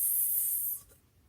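Writing on paper or a board during a phonics spelling lesson, a short bright scratchy rub of a pen stroke that fades out after under a second, alone with no talk.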